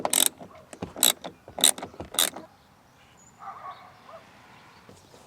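Four sharp ratcheting bursts from a socket wrench loosening the 10mm seatbelt bolt inside a 2008 Hyundai Elantra 2.0L, close and loud, followed by a quieter stretch of faint handling noise.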